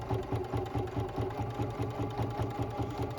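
Janome sewing machine stitching at a 2.5 stitch length with a ditch quilting foot, a close, steady rapid mechanical chatter that runs continuously and evenly throughout.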